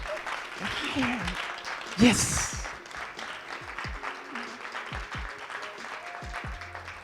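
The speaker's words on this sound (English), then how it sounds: "A big round of applause" Audience applause after a talk on product experience design, a diffuse clapping wash under a presenter's continued speech, with a brief louder burst near the two-second mark.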